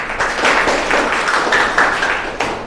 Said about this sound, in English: Will you clap for him?